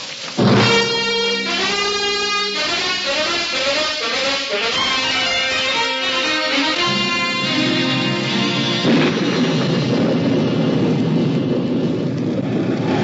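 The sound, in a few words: stormy wind and rain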